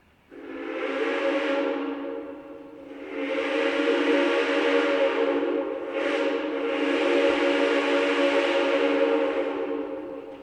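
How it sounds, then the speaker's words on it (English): Chime whistle of Southern Railway 280, a 1904 Consolidation-type steam locomotive carrying a Central of Georgia 6 chime, sounds three long, loud, steady blasts near a tunnel, with a brief dip between the first and second blasts. "The Central of Georgia 6 chime you just heard belongs to Southern Railway 280 Consolidation type steam locomotive built in February of 1904"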